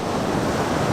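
Steady broadband rush of ocean waves washing in on the beach at Jökulsárlón in winter Iceland, loud and continuous with wind noise, no pause or distinct break.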